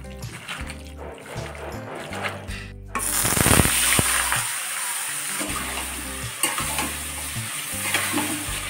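A spice paste of garlic and ginger hits hot oil in a wok and bursts into a loud sizzle, then keeps spitting while it is stirred. A steady tonal hum carries on underneath throughout.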